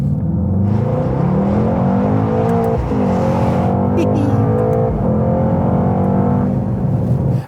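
A car engine, in a comparison of a Mercedes-AMG GT63 S and a Porsche Panamera Turbo S, revs up from 2,000 RPM, its loud rumbling drone climbing in pitch and swelling steadily for several seconds.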